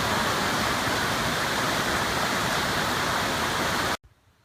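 Sable Falls at Pictured Rocks in Michigan gives a loud, steady rush of falling water for about four seconds, close by and without pause, before it cuts off abruptly.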